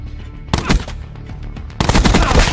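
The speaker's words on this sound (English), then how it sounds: "Shoot from the hip." Automatic gunfire from hip-fire shooting in Call of Duty Black Ops 4, two loud sustained bursts of rapid shots with a short pause between them, close and dominant with no talk.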